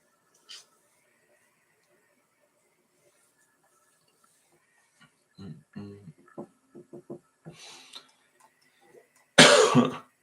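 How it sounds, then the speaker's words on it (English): Scattered quiet noises and a few muffled sounds lead into a single loud, harsh cough near the end, close by. "I'm sorry about the coughing"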